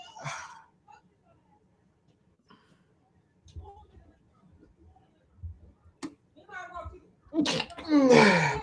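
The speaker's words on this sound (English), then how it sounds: "why I gotta sneeze so much today?" Quiet clicks and soft murmurs, then a sudden loud sneeze near the end, preceded by a sharp intake of breath.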